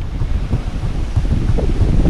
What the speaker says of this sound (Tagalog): Ay, lakas ng hangin oh.